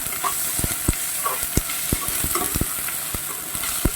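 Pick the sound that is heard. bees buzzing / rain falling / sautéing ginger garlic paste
sautéing ginger garlic paste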